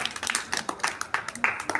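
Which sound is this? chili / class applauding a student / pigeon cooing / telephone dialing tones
class applauding a student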